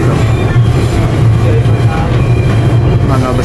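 A Chinese-built KRL commuter train running between stations on the Jakarta Kota–Bogor line, heard from inside as a loud, continuous low rumble with steady wheel and carriage noise.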